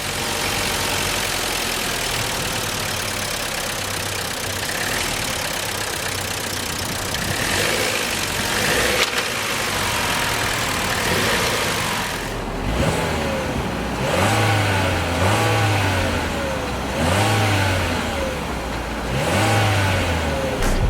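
A 2020 Chevrolet Trax's 1.4-liter turbocharged four-cylinder engine idles steadily, then revs in several short blips toward the end, heard up close and loud with no talking.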